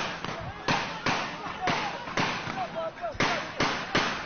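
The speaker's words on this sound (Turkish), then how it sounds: "Şu an İstanbul'un göbeğinde İstanbul Büyükşehir Belediyesi'nin önündeyiz de silah sesleri yükseliyor." Gunfire during street clashes outside the Istanbul Metropolitan Municipality building in central Istanbul: a run of sharp, evenly spaced bangs at moderate distance, about two per second, with voices and crowd noise underneath.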